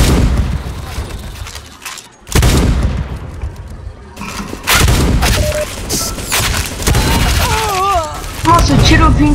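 Bursts of loud gunfire in the Roblox game Arsenal, single cracks and rapid volleys with booms, interrupted by a brief quiet gap, close and intense.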